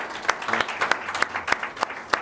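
Brisk, evenly spaced handclaps from a small audience at a certificate handover for a children's charity goodwill ambassador, about eight sharp claps in two seconds with no talking.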